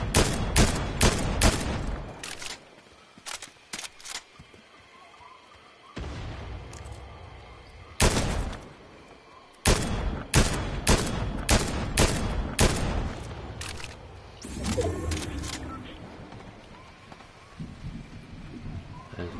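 Gunfire in the video game Fortnite: repeated sharp bursts of shots, some rapid volleys and some single cracks, spread across the whole stretch with quieter gaps between them and game ambience underneath.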